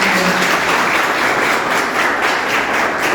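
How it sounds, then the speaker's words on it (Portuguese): Audience applause at a union tribute ceremony in Petrolândia, a steady dense wash of clapping sustained and loud throughout, with no one speaking over it. "Aplausos para Daí também."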